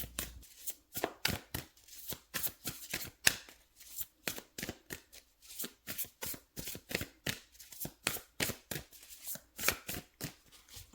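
Light Seer's Tarot cards are shuffled by hand, a rapid run of crisp riffling flicks close up, steady and fairly quiet, with no voice over it.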